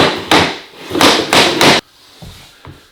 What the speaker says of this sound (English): get my hand under there, and start working this in with the plank hammer.